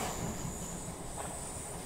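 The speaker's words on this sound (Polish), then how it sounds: "Pociąg szarpnął i zaczął zwalniać." A passenger train jolting and slowing down, heard as a continuous rolling rumble with a thin, high wheel squeal sustained above it, fairly quiet and even throughout, with no talking.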